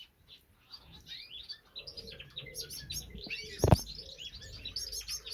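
Parrot finches in a bird shed chirp and tweet almost nonstop in high, overlapping calls, with a brief burst of wing flapping near the middle as the birds flit about.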